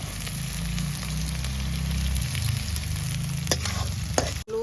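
Ginger and garlic tipped into sautéed onions in a frying pan, a steady loud sizzle with stirring scrapes, a few sharper clinks and a brief knock near the end.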